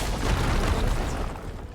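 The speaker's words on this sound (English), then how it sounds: "would you mind warning me next time you decide to blow up a wall?" A wall blowing up in Horizon Forbidden West, a loud, dense, rumbling blast with debris that fills the short stretch and slowly tails off, with no talking.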